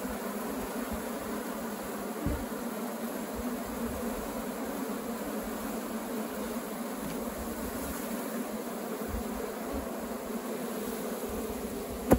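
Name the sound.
Apis honeybees buzzing during swarm capture in termite mound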